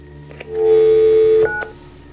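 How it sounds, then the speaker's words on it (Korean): A telephone keypad in a supposedly haunted house gives a few short tones and one long steady dial tone lasting nearly a second, close and clear, with small clicks around it. "전화번호를 늦게 누르셨습니다."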